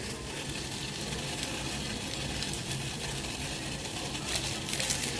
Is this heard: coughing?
no